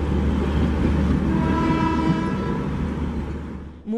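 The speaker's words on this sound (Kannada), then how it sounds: "ತೇಜಸ್ ಎಕ್ಸ್ಪ್ರೆಸ್ ತನ್ನ ಮೊದಲ ಪ್ರಯಾಣ ಆರಂಭಿಸಲಿದೆ" A Tejas Express train on its first run from Mumbai to Goa rumbles past loudly and steadily, its horn sounding a long sustained tone over the rolling rail noise before everything drops off at the end.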